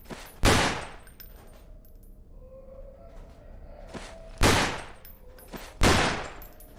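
Three loud gunshots from a firearm in the Underhell horror video game, spaced a few seconds apart, each a sharp blast with a brief decaying tail, with quiet ambience between.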